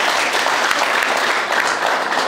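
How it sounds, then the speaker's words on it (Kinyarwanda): Wedding guests clapping together at a celebration, a loud, thick burst of applause that stays steady from start to end with no voices above it. "amashyi."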